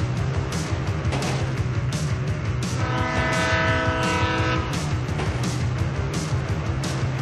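A train in the video game GTA 5 rumbling past with a deep steady roar, a sustained horn blast rising in the middle, and rhythmic clatter throughout, loud and close.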